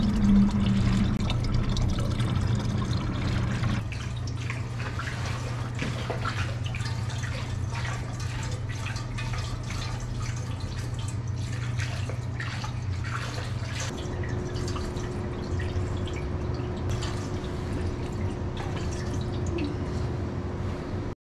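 Steady stream of water pouring and trickling into an N14 Cummins engine's coolant container, a continuous splashy flow that shifts pitch as it fills, with no talking.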